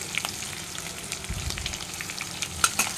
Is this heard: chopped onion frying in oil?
yes